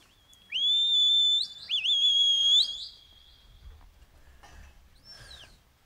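Shepherd's whistle commands at a sheepdog trial: two long, loud, sustained high whistles with pitch bends, then quieter short chirping whistles against an open outdoor background.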